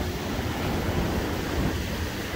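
Waves wash against a frozen jetty on a bitter, windy winter shore, a continuous rushing surf with broadband roar and wind buffeting the microphone, no talk.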